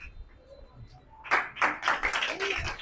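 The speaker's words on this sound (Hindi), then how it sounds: "हाँ, जोरदार तालियां होनी चाहिए।" After a second of quiet murmur, people at a Mission Shakti 5.0 programme in Varanasi start clapping, a loose burst of separate claps that swells and continues to the end.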